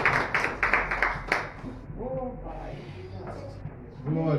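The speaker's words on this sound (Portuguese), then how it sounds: "Você pode aplaudir a Ele." A church congregation applauds during a Portuguese-language worship service, a burst of loud, rhythmic clapping for about a second and a half that gives way to a voice speaking or singing.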